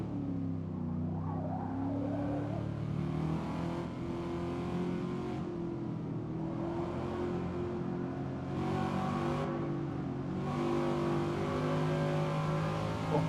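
A Lotus four-cylinder sports car engine in Gran Turismo 7, the engine fitted to the Elise and Exige, drones steadily throughout at moderate loudness, with the pitch shifting slightly as it revs, and no talking over it.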